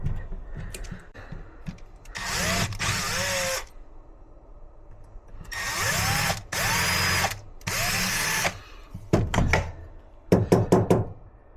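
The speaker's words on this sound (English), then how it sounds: "It's just aluminum, so it drills super easy." A drill bores into the aluminum ignition lock cylinder of a Toyota Camry after center punching. It runs in several loud, close bursts with pauses between them, and there are sharp knocks and clicks near the end.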